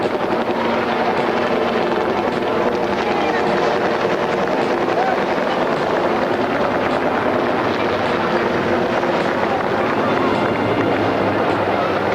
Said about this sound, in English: What you see overhead now, ladies and gentlemen, representatives of Navy Special Warfare Group 1 and a Marine Corps CH-46 helicopter